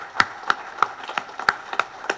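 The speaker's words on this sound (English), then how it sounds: "Round of applause for you all." Steady, evenly spaced hand claps at a Mazda dealership's 45th anniversary ceremony, crisp and fairly close, roughly three per second with faint room noise between them.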